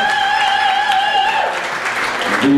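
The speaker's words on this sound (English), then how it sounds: "Round of applause, kids." Audience applause at a poetry event fills the room, a steady wash of clapping at close range, fading slightly before a voice cuts in at the end.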